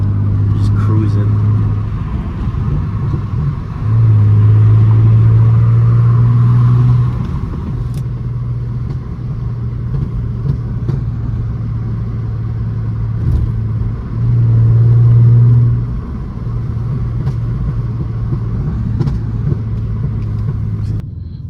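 A straight-piped, tuned Mercedes W204 C350 cruises along with a steady low exhaust drone that swells twice into louder bursts, heard from inside the car with the windows mostly up.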